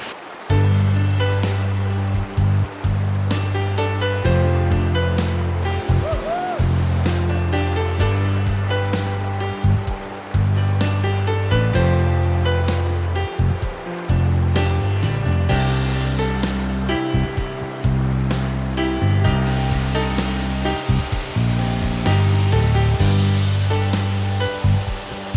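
Waterfall near Luang Prabang, Laos, a loud continuous rushing roar of falling water heard up close for a long stretch.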